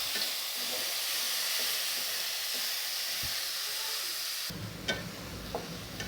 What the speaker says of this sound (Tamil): ரெண்டு மீடியம் சைஸ் தக்காளி அதையும் போட்டு நல்லா கலரி விட்டுக்கலாம்